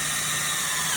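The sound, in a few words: power drill drilling a hole for an extension pot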